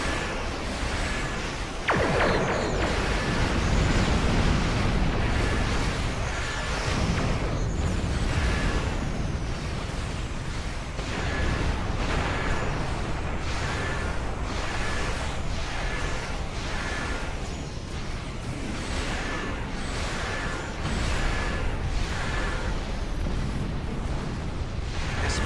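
Torpedo explosions boom and rumble continuously in a Star Trek Online space battle, a dense, loud wash of blasts and bursts layered over steady low roar for the whole stretch.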